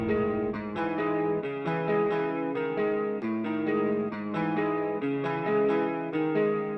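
Melodic electric guitar line drenched in a Tau Chorus effect for a rage-style trap beat, sustained shimmering notes in a steady repeating phrase, full and continuous with no drums or talking.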